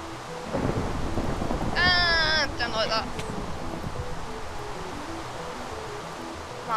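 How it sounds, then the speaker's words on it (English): Steady rain in Minecraft Pixelmon fills the scene with a constant hiss and a low thunder rumble, while a person talks over it and a short high animal-like cry rises in the middle. "it will be so bad, but the rain is so loud"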